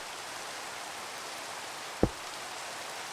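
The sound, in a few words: rain in Minecraft video game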